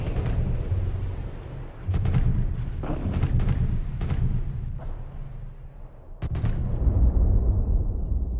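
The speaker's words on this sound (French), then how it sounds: "Artillerie, blindés et aviation pilonnent pendant des jours les soldats soviétiques" Heavy artillery explosions in a World War II bombardment of Soviet troops, a loud rolling barrage of booms and blasts in rapid succession with deep rumble between impacts, no voices.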